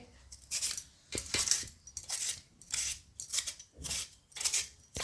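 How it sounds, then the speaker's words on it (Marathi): Potatoes being peeled by hand, a rhythmic series of scraping strokes repeating about every half second, close and fairly clear with no talk. "आता माझं हे बटाटा तर पूर्ण सोलून झालं"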